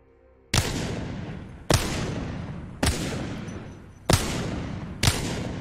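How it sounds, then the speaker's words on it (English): Five spaced, loud single gunshots from hip-fire in Apex Legends, each a sharp crack followed by a long decaying echo, evenly paced about a second apart. "I'm basically up this mountain and I'm hip firing every single one of these"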